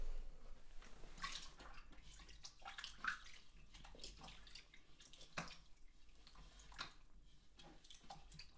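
Water runs from a store sink tap as hands are rinsed at a Lush cosmetics shop, a soft steady splashing stream with small surges, close and quiet, no talking.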